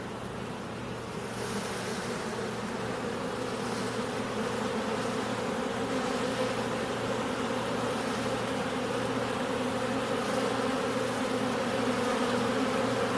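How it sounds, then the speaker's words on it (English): Honey bees from a queen-rearing frame buzz in a dense, steady drone as they are brushed off, a continuous close hum that holds level throughout with no voices. "Brush the bees off and get a count on that."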